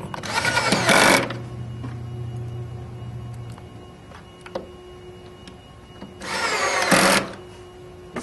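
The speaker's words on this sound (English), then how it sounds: "You don't want to over-torque these screws." A power screwdriver drives screws into a plastic base during installation of an X-Termination board, two loud buzzing bursts of a few seconds each, separated by a quiet stretch with a low steady hum.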